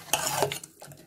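Spoon stirring morkuzhambu, a yogurt-based curry, in a pot: a few quick metallic scrapes and clinks against the vessel, brief and close.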